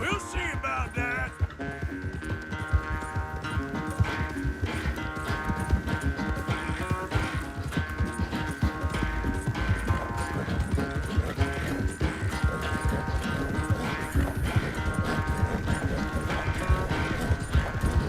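Steady clip-clop of hooves at a brisk gallop in Red Dead Redemption 2, loud and continuous, layered with a bright game soundtrack and effects.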